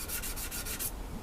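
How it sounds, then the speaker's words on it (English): Abranet sanding mesh is worked back and forth in about five quick, even rubbing strokes, close and crisp, then stops; nobody speaks. "So that's quite interesting. Sanding mesh abranet."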